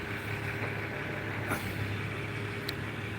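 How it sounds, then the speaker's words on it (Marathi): A gravel truck pulls in beside an open ground, its engine a low, steady rumble under broadband noise, with a short hiss or clank midway and a faint click near the end, heard at a moderate distance. "ते बघा इकडं खडीची गाडी आली"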